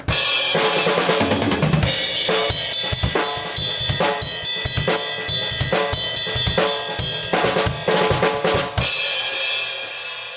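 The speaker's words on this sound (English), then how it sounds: "this next ride bell pattern that I love and I use every once in a while" A busy Latin drum groove plays loud and steady, with bright repeated ride cymbal bell strikes riding over kick and snare hits.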